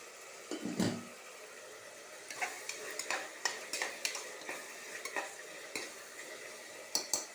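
Tomatoes with rock salt cook in a pan, a faint sizzle beneath irregular spoon scrapes and clinks against the metal, spaced loosely over several seconds, close but quiet.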